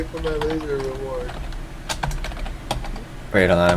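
Typing on a computer keyboard during a Steambirds Alliance livestream, a run of crisp irregular key clicks under tonal game music and sound effects, with a louder musical burst at the end.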